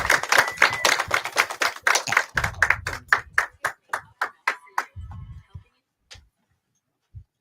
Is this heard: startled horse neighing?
no